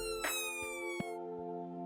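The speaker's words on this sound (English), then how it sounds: "When the siren goes on again, that's your cue to let it go past." Emergency vehicle siren on a UK road, a steady tonal wail holding several harmonics that shift pitch, with brief bursts of other traffic noise, fairly loud and continuous with no talk.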